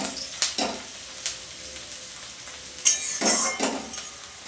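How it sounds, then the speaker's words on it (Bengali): Onions frying in a pan until reddish brown, with a steady soft sizzle, a few sharp clinks and scrapes of a utensil against the pan, and a louder burst of sizzling near the end. "আমার পেঁয়াজগুলোকে লাল লাল করে ভেজে নেওয়া হয়ে গেছে"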